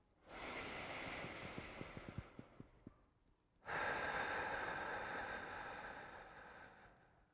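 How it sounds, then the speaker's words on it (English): A slow, deep breath in through the nose, drawn close to the microphone as a long airy rush, then a second, louder inhalation after a short pause. "take a deep breath in"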